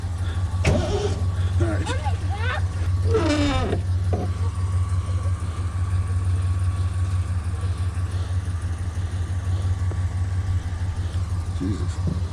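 A vehicle engine, worked with the choke pulled fully out, fires up and settles into a steady, loud idle that holds for the whole stretch, while a voice speaks briefly near the start.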